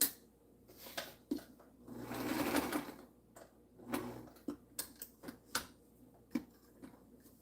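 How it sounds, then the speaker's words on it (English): A sewing machine whirs in short bursts between clicks and taps, with one longer steady run in the middle; no one speaks. "I haven't used this sewing machine in over a year."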